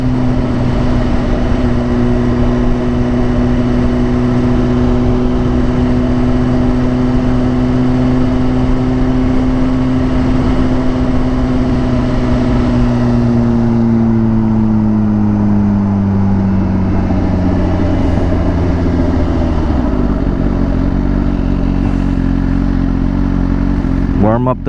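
A motorcycle engine drones steadily while riding, loud and close, its pitch sliding gradually lower as the bike slows near a scenic lake, with constant wind and road noise throughout.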